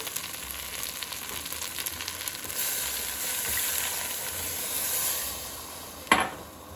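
Rice frying in a pan sizzles steadily. The hiss swells and intensifies as water is added for tomato rice, with a brief clatter near the end.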